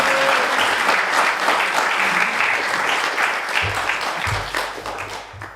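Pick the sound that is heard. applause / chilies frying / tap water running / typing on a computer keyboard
applause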